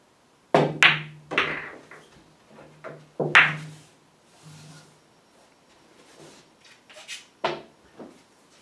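Billiard cue striking balls during aiming practice, sharp close clacks and knocks in short clusters with gaps between, each followed by softer rolling and collision taps, no voices.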